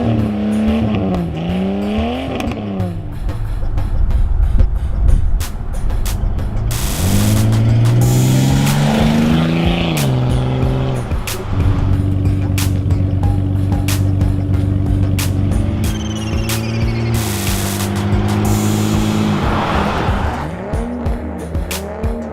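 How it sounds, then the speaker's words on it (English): A Datsun 280ZX with new coilovers and a replaced mount is driven on a road test, its engine droning steadily with rising and falling revs through gear changes, close and loud throughout. "now I'm going to take it for a quick test drive and see if the noise has stopped"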